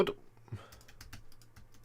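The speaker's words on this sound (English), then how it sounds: "I don't know why I'm typing that." Quick, uneven clicks of someone typing on a computer keyboard, close and fairly quiet, with a low hum underneath.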